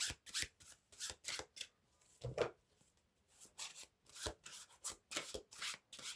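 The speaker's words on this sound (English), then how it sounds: "These are the funny sounding cards." Playing cards with an odd, funny tone are shuffled in repeated quick riffled bursts with short pauses between, close and fairly loud, with no talking.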